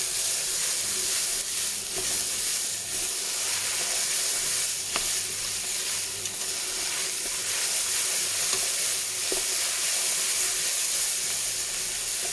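Bell peppers sizzle and fry steadily in a pan for ratatouille, a continuous close hiss with occasional stirring clinks and no talking.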